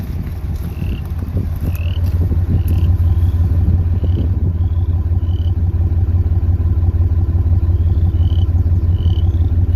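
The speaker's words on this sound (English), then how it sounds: "Go around here and listen to the exhaust." A car's deep, steady exhaust rumble runs loud and close, with a faint repeating chirp above it.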